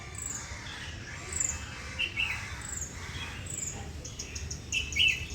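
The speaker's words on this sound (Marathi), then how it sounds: "पक्ष्यांच्या किलबिलाटानं जाग आली." Morning birdsong on a coastal trip: scattered high chirps and tweets, faint and somewhat distant, over a soft steady hiss with a low insect-like hum. No one speaks.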